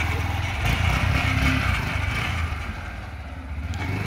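A Yamaha YBR125 motorcycle engine runs close by, revving in uneven pulses that rise and then ease off toward a lower, steadier note.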